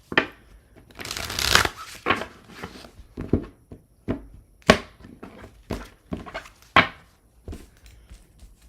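Tarot cards are shuffled up close, with a long riffling rush followed by short, separate slaps and flicks of the deck at uneven intervals.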